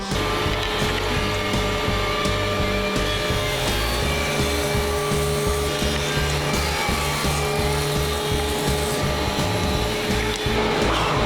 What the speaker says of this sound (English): So we're gonna take out our planer here and get all of them planed out.